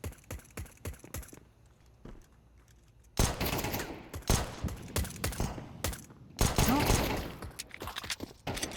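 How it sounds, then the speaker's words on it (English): Pistol fire in a Counter-Strike match on the Mirage map, a string of sharp single shots in quick succession, then busier exchanges of gunfire with footsteps and effects, under a caster's fast commentary. "These pistols are pecking away"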